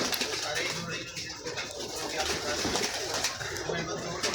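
Pigeons coo softly and repeatedly against a busy, noisy background, with a voice talking faintly now and then.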